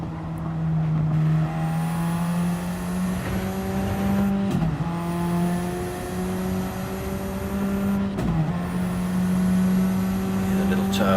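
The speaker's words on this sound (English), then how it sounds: "The little turbos kicking in." Turbocharged race car engine in a racing video game, revving hard through the gears with a strong rising whine, two sharp dips at shifts, loud and steady throughout.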